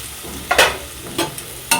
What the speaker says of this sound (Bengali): এখানে কুমড়ো ভাজা বসিয়েও দিয়েছি